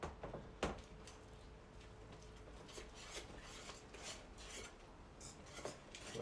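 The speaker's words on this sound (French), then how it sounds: "on va mélanger un peu au fouet, gentiment" A whisk scrapes and clinks gently in a bowl of tuna tartare mixture, a faint, steady rubbing with occasional light taps against the bowl.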